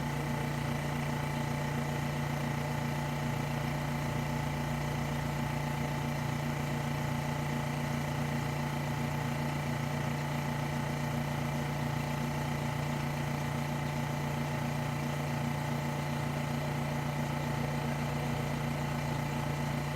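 A Specialty Coating Systems P6712 spin coater runs steadily at 4,000 RPM, giving a constant motor hum with a strong low tonal drone and a level, unchanging whir throughout, with no voices.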